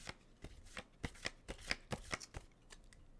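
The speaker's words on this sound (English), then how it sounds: "shuffle the cards, and the highest priority card falls out" A deck of cards being shuffled, a quick series of crisp riffling and snapping bursts in an uneven rhythm, close and fairly quiet, with no talking.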